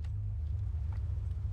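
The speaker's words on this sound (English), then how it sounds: "We had an armored car flanking us." A low, steady engine rumble from an armored car in the war game Foxhole, with faint scattered clicks and distant thumps over the drone, no talk.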